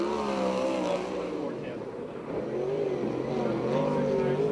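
A 410-engine sprint car races on a dirt track at the Perris, California fairground, its engine roaring loud and close with a rising and falling pitch, under steady talk from a commentator.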